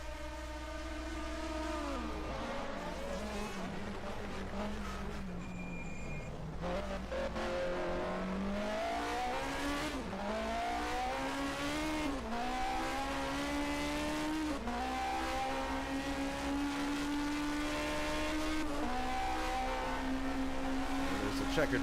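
Historic 1979 race cars lap the Nürnberg Norisring street circuit in a racing video game, engines droning loudly and continuously, pitch sweeping up through gears and dropping under braking, with several cars overlapping throughout.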